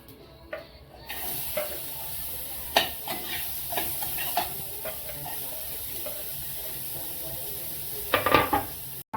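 Onion tipped into a hot pan for a rustic egg curry, after ginger, garlic and coconut have been fried; a steady close sizzle and hiss with a few sharp scraping and stirring clatters, busier near the end.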